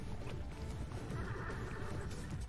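A racehorse in the Horse Racing 2016 video game, heard galloping in a continuous thudding rush of hooves with a whinny, loud and close throughout.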